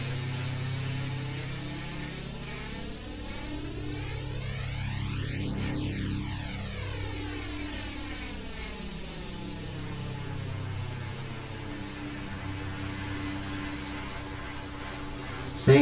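An airbrush sprays India ink with a continuous soft hiss that stays level, close and fairly quiet throughout, ending in a faint click.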